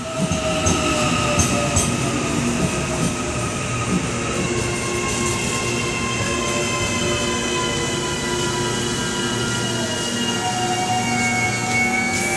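Riding aboard an AM class electric train in Auckland, a continuous rumble of wheels on track with rising and falling motor whines and occasional rail squeal, steady and close throughout.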